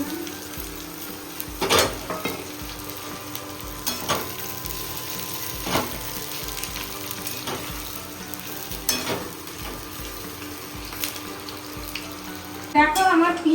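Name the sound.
onions frying crisp in oil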